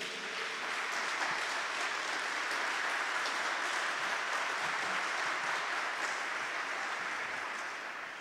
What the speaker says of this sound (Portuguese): Pode aplaudir, irmã, você?